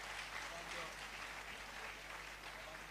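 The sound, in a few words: audience applause at pharmacy induction ceremony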